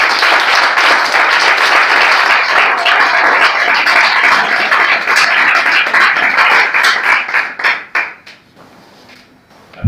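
A wedding crowd breaks into loud, sustained applause and cheering that fills the room for about eight seconds, then trails off into scattered claps and quiet.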